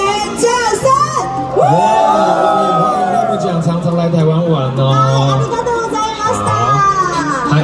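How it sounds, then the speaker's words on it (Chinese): A crowd at a stage show at the Taipei Red Expo 2023 screams and cheers loudly in sustained, rising bursts, mixed with amplified talking over it. "好，尖叫声来下。"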